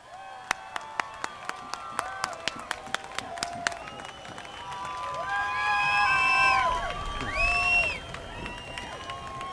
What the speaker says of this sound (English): get a thunderous round of applause for Ralph Nader